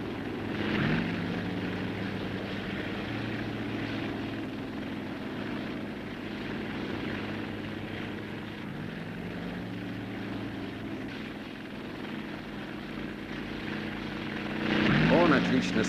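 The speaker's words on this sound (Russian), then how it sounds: "создал вертолет, который справедливо называли летающим вагоном" A 1959 Soviet Yakovlev helicopter's engine and rotors drone steadily throughout, with a voice talking in Russian over the continuous aircraft noise.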